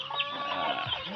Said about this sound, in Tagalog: Ang daming manok mga ka-farmers.